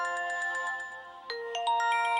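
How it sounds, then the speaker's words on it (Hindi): A phone ringtone sounds for an incoming call in a Pakistani drama scene, a bright electronic melody of repeated ringing notes that shifts pattern partway through, loud and close with no talk. "पता नहीं, देखती हूँ, फोन तो उठाऊं।"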